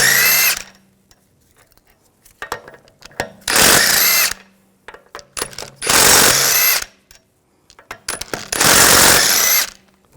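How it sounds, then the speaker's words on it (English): Lug bolts on a BMW 550i rear wheel come out under a power tool with a 17mm socket: four loud, close bursts of whirring about a second long, with clinks and handling noises in the gaps. "take the lug bolts out"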